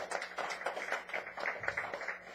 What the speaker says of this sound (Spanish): Pues denle una ofrenda de palmas al Señor.